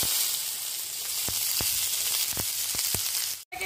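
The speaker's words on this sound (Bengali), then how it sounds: "লাল লাল করে বাদামি করে ভেজে নেবো" Onions frying in hot oil with asafoetida and whole garam masala spices (cinnamon, cloves, cardamom) give a steady, close sizzle, with a few soft clicks of stirring near the end.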